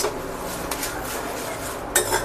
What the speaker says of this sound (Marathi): चट चट चट अशा छान रीतीने सगळा कढीपत्त्याचा पाला भाजून घ्यायचा